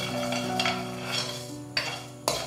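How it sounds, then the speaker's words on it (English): Raw rice is dry roasted in a pan on a stove, with a soft hissing rustle as the grains are stirred and a few sharp scrapes and clinks of a utensil against the pan. "heat a pan on the stove and dry roast raw rice in it"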